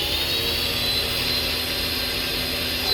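Harbor Freight pressure washer spraying through a black low-pressure nozzle, a loud, close, steady hissing roar with a constant motor whine, alone and unbroken.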